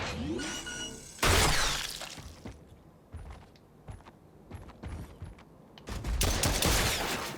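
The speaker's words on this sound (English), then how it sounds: "Break the boxes." Wooden boxes smashed in a game, sharp cracking bursts of breaking debris at the start and again near the end, with scattered hits and clatter between them.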